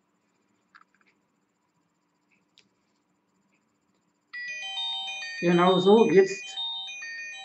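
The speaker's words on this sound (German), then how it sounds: "macht die Uhr dieses Geräusch und sagt mir, dass sie die Verbindung zum Handy verloren hat" An Omate X smartwatch sounds its alarm after losing its Bluetooth connection to the phone: a loud, steady electronic tone with a bright, chiming character begins abruptly after several seconds of near-silence, and a person speaks briefly over it.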